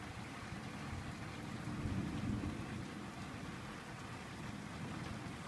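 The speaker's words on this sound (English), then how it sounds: "It's raining so freaking hard right now." Heavy rain pours down steadily during a severe UK thunderstorm, a dense continuous hiss with a low rumbling swell around the middle, likely distant thunder, and no voices.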